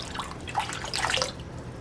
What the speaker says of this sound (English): Now I'm going to add my coconut milk.